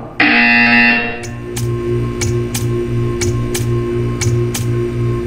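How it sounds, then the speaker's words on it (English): A sharp electronic buzzer tone in Portal 2 opens, then a steady hum with a series of regular, evenly spaced clicks or ticks. "When you hear the buzzer, stare at the art."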